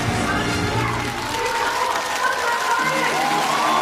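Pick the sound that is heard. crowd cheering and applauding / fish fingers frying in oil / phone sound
crowd cheering and applauding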